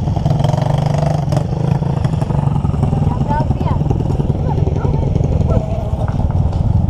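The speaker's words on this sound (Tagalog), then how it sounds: "Lakas ang preno ng motor ni Arden, no?" Motorcycle engine idling and rumbling close by on a rural trip, with clattering and mechanical knocks over a steady low drone, while people talk over it.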